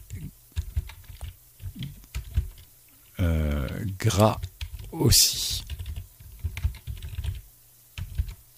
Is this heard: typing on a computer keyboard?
yes